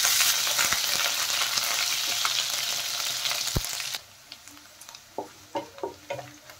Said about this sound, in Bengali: দিয়ে দিলাম দেখেন কুচনো পেঁয়াজ। পেঁয়াজ হালকা ভেজে নেব।